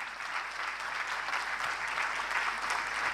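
An audience breaking into applause at an Ayurveda talk, a dense, steady wash of clapping from many hands held at a constant level throughout.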